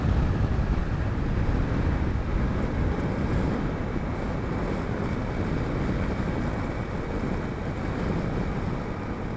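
A Honda CRF 300 Rally motorcycle cruising at speed on a tar road, its engine drone buried under steady, loud wind buffeting across the microphone throughout.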